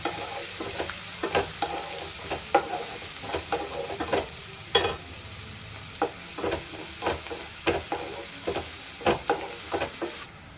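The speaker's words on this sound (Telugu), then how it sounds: "ఇందులో ముందుగా కట్ చేసి పెట్టుకున్న వెల్లుల్లిపాయలు పచ్చిమిరపకాయలు కరివేపాకు ఇంకా ఉల్లిపాయలు వేసుకుంటాను వీటిని బాగా కలుపుకోవాలి ఆనియన్స్ అనేవి బాగా ఫ్రై అవ్వాలన్నమాట" Onions, garlic, green chilies and curry leaves frying in a pan for a potato fry, a low crackling sizzle under repeated close spatula scrapes and clacks in irregular bursts, with no voices.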